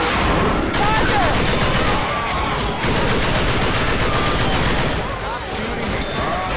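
Dense, overlapping gunfire from Left 4 Dead 2 rattles nonstop in rapid bursts, a loud chaotic firefight of automatic weapons with shouted voices mixed in.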